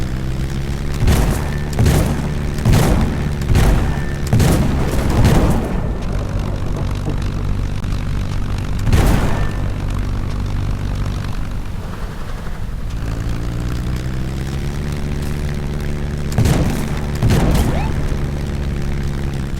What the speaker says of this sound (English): Are those enemy vessels? That is an enemy cannon.